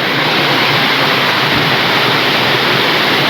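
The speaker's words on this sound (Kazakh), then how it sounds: "Үйден шығып атқан су мынау." Floodwater gushes out of a house during a flood in Tulkibas, Turkistan region, a loud, unbroken roar of rushing water that fills the whole stretch without any talk.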